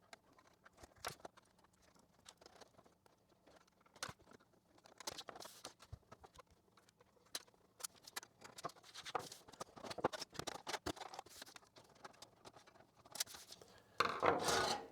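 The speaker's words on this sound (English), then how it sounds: "let me just find a screwdriver and tear this out" Removing a CD-ROM drive from a computer with a screwdriver: quiet, close scraping, rubbing and metallic clicks in irregular bursts, sparse at first and busier later, with a louder rattling scuffle at the end.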